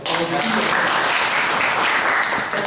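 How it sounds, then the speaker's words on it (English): A short burst of applause from a Big Data Analytics meetup audience, loud and close, with a few voices faintly mixed into the clapping. "Big round of applause for it."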